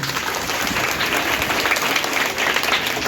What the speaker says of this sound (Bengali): আমাদের সুবীর বাবুর উদ্দেশ্যে একটা জোরে হাততালি হল